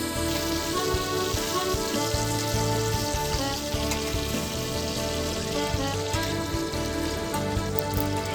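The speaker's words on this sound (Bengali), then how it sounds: "কড়াইতে সাদা তেল গরম করে পটলগুলো হালকা ভেজে তুলে রাখবো" Pointed gourd frying in hot white oil in a wok, a loud, dense, continuous sizzle and crackle like heavy rain, close and steady throughout.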